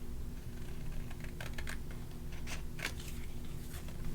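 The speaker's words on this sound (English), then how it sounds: "Should have used bigger scissors for this one." Small scissors snipping the corners of paper tags, a few quick crisp cuts near the mic over a steady low hum, no talking.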